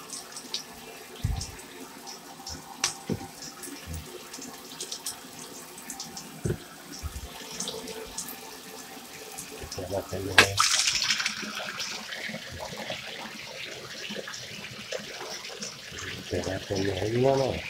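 Water runs in a bathtub while a bulldog is wetted down before lathering, a steady faint splash and flow that grows louder toward the end, with someone talking at times.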